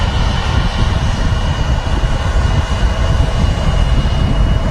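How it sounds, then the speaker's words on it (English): A Virgin Airbus A330 jet rolls for takeoff at Manchester Airport, its engines giving a loud, steady, broad roar that fills the whole stretch without letting up. "The Virgin 330 rolling."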